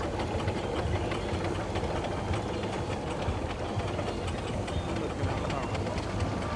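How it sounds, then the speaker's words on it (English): A Burrell single-cylinder steam traction engine running in a parade at a steam rally, a dense steady chuffing and mechanical clatter at close range, with a commentator talking over it. "This one, single cylinder one, known as Crazy Day, is owned by the Day fam"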